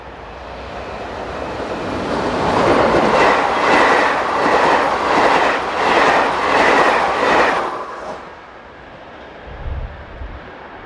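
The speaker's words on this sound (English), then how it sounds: "we see the same locomotive hauling the 1806 from Schaerbeek to Mouscron" Locomotive hauling a passenger train past Froyen station in Belgium, a loud rhythmic clatter of wheels over rail joints that builds, holds for several seconds, then fades as the train passes.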